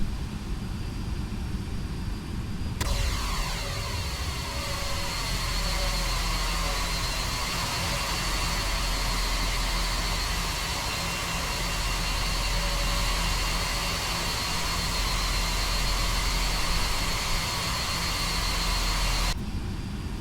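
Simulated jet engines of a Flight Factor 767-400 airliner in X-Plane 11, a steady loud roar with a rising whine that sweeps upward over about twenty seconds, continuous and alone without talk.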